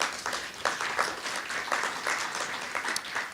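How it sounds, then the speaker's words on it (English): An audience claps at a poetry reading, a dense, even patter of many hands heard from a moderate distance, sustained throughout. "So, I see someone's clapping about that."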